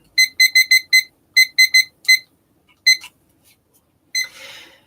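A timer alarm rings out in sharp electronic beeps, quick runs of four bursts separated by short pauses, then a few scattered beeps and a softer rustle at the end.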